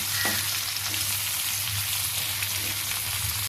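Onions sautéing in a clay pot, a continuous close crackling sizzle with light stirring knocks and a low steady hum underneath, no one talking.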